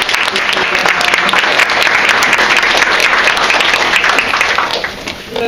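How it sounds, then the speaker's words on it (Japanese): An audience at a bookstore event in Japan applauds the guest speakers, a dense, steady burst of clapping from a full room that holds for several seconds and eases slightly at the end. "樋口さん、では拍手をお願いします"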